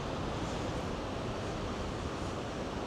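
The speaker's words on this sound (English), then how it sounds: "There's something so hypnotic and calming about the waves" Heavy swell at Cape Spear produces a steady, broad roar of ocean waves on the shore, loud and continuous with some wind noise, no talk over it.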